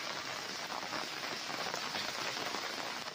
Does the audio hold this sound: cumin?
no